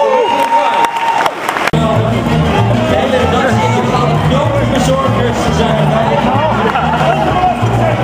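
Audience at the Dutch Bloggies 2009 awards in the Paard applauding and cheering after a sharp bang, a loud, dense wash of clapping and shouts with crowd chatter mixed in, sustained to the end.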